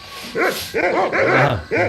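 Dog barking in the PC game Monkey Island 2 Special Edition: LeChuck's Revenge, three or four loud, close, yelping barks in quick succession with short gaps between them, no speech.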